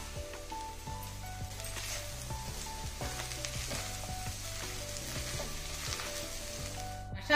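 Masala for a cauliflower egg curry fries in a pan with a soft, steady sizzle and occasional stirring, quiet and close, while a low tonal hum of music runs underneath.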